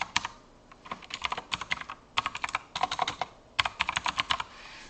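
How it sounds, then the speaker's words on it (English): Typing on a computer keyboard: quick bursts of crisp, close key clicks in several runs, with short pauses between them. The sound is fairly quiet and there is no talking. "type in a username"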